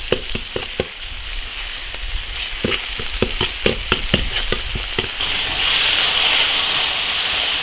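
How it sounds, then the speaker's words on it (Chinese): Ginger, garlic and doubanjiang stir-fry in an iron wok at a rural home kitchen, oil sizzling loudly while a spatula scrapes and knocks in a quick irregular rhythm, then the hiss swells and steadies. "把它炒香"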